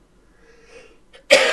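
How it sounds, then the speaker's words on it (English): A single sudden cough bursts out near the end after a quiet lead-in, close and sharp, from a player during a Farming Simulator 22 session. "Pardon my cough."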